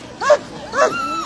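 Sled dogs at a race start give two sharp, excited yips and whining barks close by, each rising and falling in pitch, with a thin whine trailing after.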